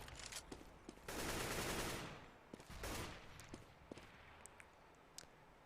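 Counter-Strike gunfire breaks out in a quick exchange, with a dense burst of rapid shots and scattered single cracks around it, fairly faint and without commentary over it.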